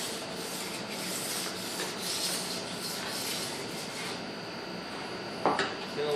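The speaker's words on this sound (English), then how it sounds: "And then finish with our finest diamond stone." A knife edge is stroked across a fine diamond sharpening stone, making soft, continuous rubbing and scraping in repeated strokes, fairly quiet and close with no speech.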